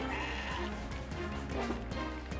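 A goat in the video game CrossCode bleats in short repeated cries over a steady game soundtrack.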